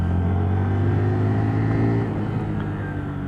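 A Lexmoto Assault motorcycle engine on a test ride, a steady droning hum with strong low harmonics that shift slightly as a gear change comes through, close and continuous without any talk.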